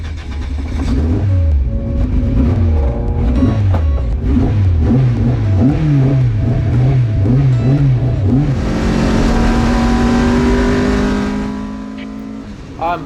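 A Marcos race car engine loud and close on the Donington circuit, rising and falling through repeated gear changes before settling into a steady high drone that fades near the end.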